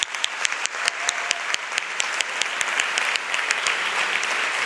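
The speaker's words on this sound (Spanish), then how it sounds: "Un aplauso para ellos, por favor." Applause from the audience at a literary event at an Ateneo, starting with a few scattered, sharp claps that quickly build into steady, full clapping from a crowd.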